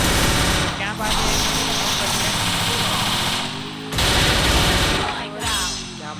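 Dense, loud automatic gunfire in the Free Fire video game, long sustained bursts of rapid shots with brief gaps, mixed with game effects.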